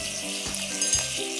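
Food sizzles in a frying pan, a steady hiss of frying in the game Bone's Cafe with a few soft clinks and stirring touches, no talking.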